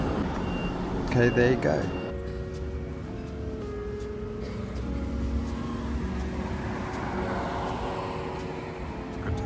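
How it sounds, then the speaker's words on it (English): A truck reversing on a city street gives a burst of reversing beeps, then its engine idles and rumbles nearby under steady outdoor traffic, with a brief remark from a person. "Good timing with that truck."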